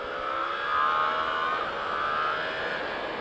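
A Yamaha R1 motorcycle accelerates with a steady high-pitched engine whine that swells and rises slightly, heard from a moderate distance with a constant hiss of wind behind it.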